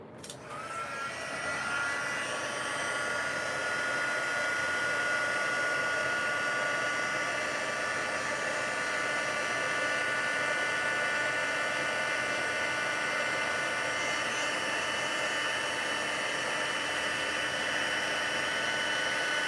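A heat tool blows steadily to set craft ink, a constant loud whooshing whine that starts abruptly and holds unchanged throughout.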